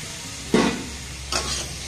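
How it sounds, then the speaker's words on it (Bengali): Ground spice paste is poured into hot oil in a frying pan for a taro dish, giving two short sizzling bursts over a steady low frying hiss, close up with no talk. "এটার মধ্যে এখন আমি বাটা মশলা ঢেলে নিচ্ছি।"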